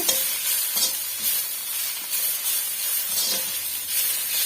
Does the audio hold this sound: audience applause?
no